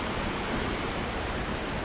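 A waterfall seen from a distance, surrounded by moss, gives a steady, even rush of falling water and spray that fills the air without a break.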